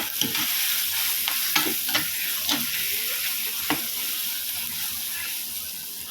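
Ground spices and garam masala sizzle in a hot pan while a spoon stirs and scrapes, with a steady frying hiss and intermittent clinks of the utensil.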